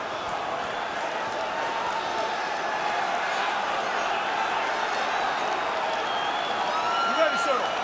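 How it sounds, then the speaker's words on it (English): An arena crowd at a UFC 120 fight keeps up a steady, dense roar of voices and cheering, with a brief louder swell toward the end. "Carlos Condit looking to silence the crowd"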